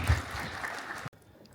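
Audience at an earthquake risk reduction meeting applauding to welcome a speaker to the podium, a brief burst of clapping that cuts off abruptly into near silence.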